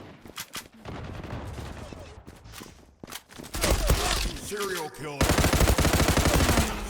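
Rapid automatic gunfire in the online shooter Zula, bursts of shots cracking close and loud, with a few isolated single shots early on and dense sustained fire later, amid faint movement noise.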